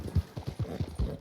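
Hooves of a Nakota horse in Red Dead Redemption 2 clip-clop in a steady walking rhythm, about eight soft close thuds, alone without talk.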